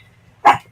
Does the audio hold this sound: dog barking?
yes